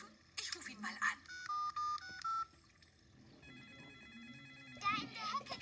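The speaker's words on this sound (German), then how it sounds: "Da in der Hecke klingelt ein Telefon." A cartoon telephone in a Peppa Pig episode gets dialed with a quick run of beeping keypad tones, then rings in electronic bursts from a garden hedge, with a voice speaking before and after.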